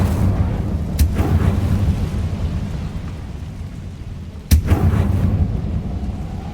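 The Incendio fire spell is cast in Hogwarts Legacy, with a deep rumbling boom and sharp whooshing bursts around one second and again near four and a half seconds over a constant low roar.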